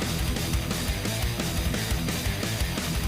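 Dense, heavy distorted guitar riff with pounding drums, played loud and steady throughout without any voices.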